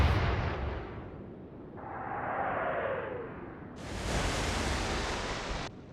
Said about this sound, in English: let's increase the gun range, the elevation, and fire!